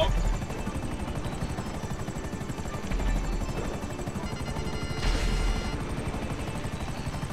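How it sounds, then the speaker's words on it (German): Helicopter rotors chop steadily and loudly throughout in GTA 5 Online, a dense rhythmic thumping with a brief swell near the end, and no voices. "Ey, sie kommen noch Helikopter."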